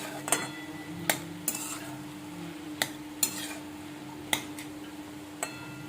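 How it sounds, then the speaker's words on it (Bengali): Fried potatoes and banana stem (thor) being stirred in a pan for a Bengali thor posto dish, a spoon clacking against the pan in scattered sharp knocks over a faint steady sizzle, no voices. "আলুগুলোকে থোড়ের সাথে আমি আরও একবার ভালো করে নাড়াচাড়া করে নেব"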